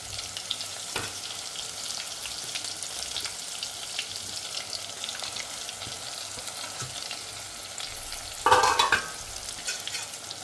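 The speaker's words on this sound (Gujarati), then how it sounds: "થોડા સાતળવા દેશું કારેલાને" Bitter gourd sautéing in a pressure cooker gives a steady close sizzle with light stirring scrapes throughout, and a brief louder scrape near the end, with no talking.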